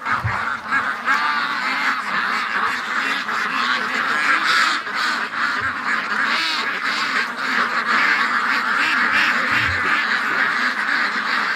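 A dense flock of ducks quacking continuously and loudly up close, overlapping calls forming a steady chattering din.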